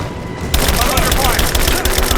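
Gunfire erupts in the Rise of the Tomb Raider video game after a quiet half second, a dense, continuous fusillade of rapid shots with booms mixed in, loud and close throughout.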